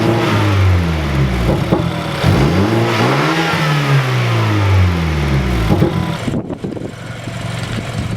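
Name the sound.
car engine revving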